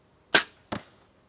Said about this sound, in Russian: С каким звуком уходит стрела